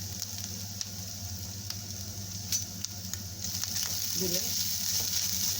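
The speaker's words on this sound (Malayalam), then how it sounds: "തേങ്ങ വറുത്തെടുക്കുക" Grated coconut sizzles in a spoonful of coconut oil in a pan over a medium gas flame, a steady close frying hiss with soft stirring scrapes and a brief word of speech.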